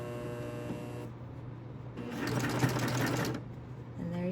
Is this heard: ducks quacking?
no